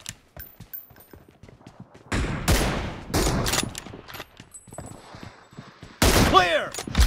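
Gunshots in the mobile battle royale BGMI, with an M24 sniper rifle among the weapons: scattered loud reports and a cluster of heavy shots, plus short bursts of voice chat between them.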